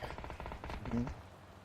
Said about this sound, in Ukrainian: Та, там прям стріляються, бачиш?